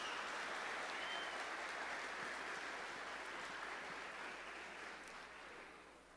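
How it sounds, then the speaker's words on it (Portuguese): A crowd applauds steadily in a church sanctuary for a priest, a dense, even wash of clapping that fades gradually toward the end with no voices. "Uma salva de palmas para o nosso querido Padre Jonas."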